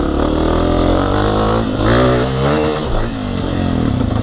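A Honda CRF250F dirt bike engine revs hard and loud up to its rev limiter, a close, buzzing high-pitched drone that holds, wavers and bounces against the limiter before surging again, with no voices.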